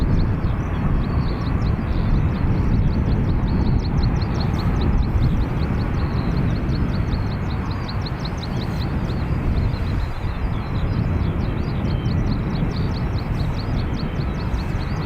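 A Finnair airliner bound for Helsinki at Dublin Airport makes a loud, broad, continuous engine rumble with a rushing roar and some wind buffeting that stays fairly constant across the whole stretch.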